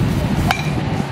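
A baseball bat strikes a ball once at a batting cage, giving a single sharp crack amid a steady background rumble.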